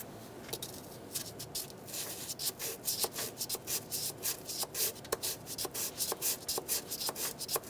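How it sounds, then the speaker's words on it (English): Light rhythmic strokes of a sanding block scrubbing corrosion and black deposits off the top of a metal engine part on a 2003-2008 Honda Pilot during valve cover gasket work, close and brisk after a quiet start. "we'll use this sanding block to sand down the top of this and get rid of any of this black stuff"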